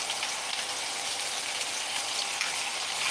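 Steak browning in a cast iron skillet gives a steady, close sizzle that holds at an even level throughout, with no talk over it.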